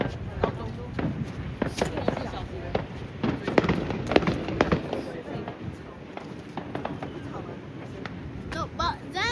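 Fireworks burst in a rapid string of sharp, loud cracks and thumps over a murmuring crowd, with voices talking close by throughout.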